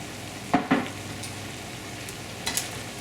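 Pancit bato noodles get stirred in a sizzling pan, a soft steady frying hiss with two quick scraping clinks of a utensil early on and another pair near the end, faint and close.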